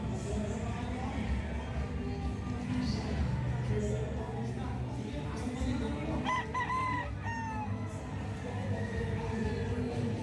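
Roosters crow several times at a gamefowl sales booth, mid-distance and fairly loud against a busy crowd murmur and background chatter, with a few short clucks mixed in.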